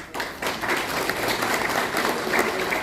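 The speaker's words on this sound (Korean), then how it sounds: "회원 여러분들께도 감사의 격려의 박수를 보냅니다" Audience applause at a year-end gathering of a Korean civic association, a steady wash of many hands clapping that holds at an even moderate level for about three seconds with no speech over it.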